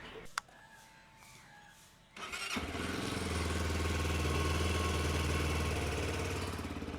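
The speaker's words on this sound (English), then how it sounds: "And that is the engine sound." A short click and quiet hum, then a Morbidelli T250X Pro motorcycle engine cranks and catches, settling into a loud steady running rumble close by.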